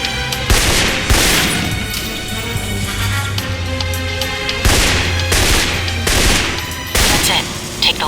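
Rifle shots in Alpha Protocol crack out in several loud separate bursts over a continuous background of game music and ambience, close and prominent.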